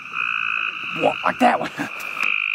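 A frog croaks at night in the wild with a steady, continuous call that runs through the whole stretch, while people talk close by over it.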